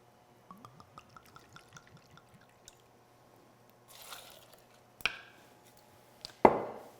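Two ounces of vodka poured for a smoked Bloody Mary: a quiet series of quick drips and glugs, followed by a short liquid rush and two sharp clinks of glass.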